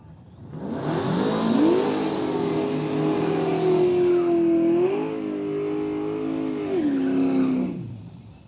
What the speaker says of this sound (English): Pro Charge, square body, step side pickup. Right-hand side, Brian Hendricks, the LS Trans Am. Naturally aspirated in the right-hand side.